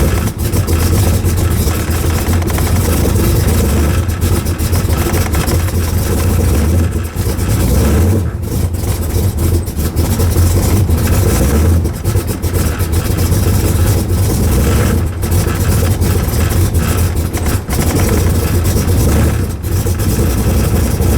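A 1968 Pontiac Firebird engine running after a choke adjustment, a loud, steady rumbling idle with a little throttle variation, heard close and continuous without speech.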